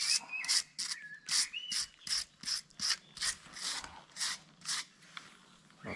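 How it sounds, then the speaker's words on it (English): Repeated rasping strokes of a wire brush or scraper on a log, cleaning off bark and sand before chainsaw milling, about a dozen rhythmic scrubs close by, with no talk. "So let's clean the bark"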